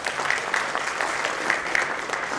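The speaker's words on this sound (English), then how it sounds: "let's have a bigger round of applause for them" Audience applause at a panel session of a conference, a steady round of clapping from a moderate crowd throughout, without speech.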